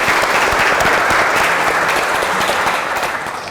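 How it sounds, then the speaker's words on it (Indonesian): Audience applause at a hospital talk show event in Banyuwangi, a dense, loud burst of clapping that holds steady and then gradually fades, with no voices over it. "Sekali lagi aplaus untuk kita semuanya."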